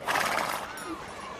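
A horse whinnies briefly and fairly loudly in a period drama set in 1788, a short neigh that fades out quickly.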